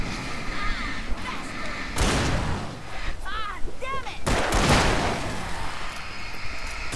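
Gunfire in the Alan Wake video game, two loud booming shots about two seconds apart over game ambience, with voices talking during the play.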